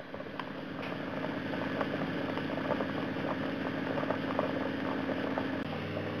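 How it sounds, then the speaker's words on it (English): Carrots simmering in stock for carrot and coriander soup, a steady bubbling boil with a low hum running underneath, continuous and moderately quiet throughout. "Now all you want to do is just boil these until they're done."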